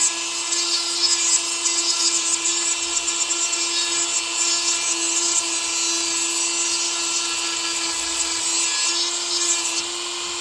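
A Dremel rotary tool grinds the teeth of a chainsaw chain with a steady, high-pitched whine and scraping, loud and close, running without pause for the whole stretch.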